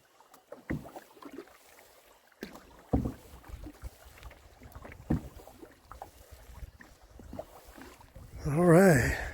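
A canoe is paddled across a lake, with irregular soft splashes and knocks of the paddle against the hull, faint wind noise around them, and a voice briefly rising near the end.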